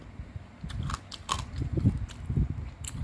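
Close chewing and biting of dumplings, with soft wet crunches and mouth sounds in an irregular rhythm for a few seconds, no talking.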